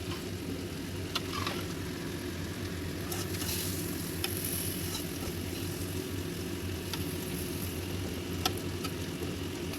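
Sliced bitter gourd (karela) frying in oil in a pan, a steady close sizzle with occasional sharp ticks and pops, continuous and even with no speech.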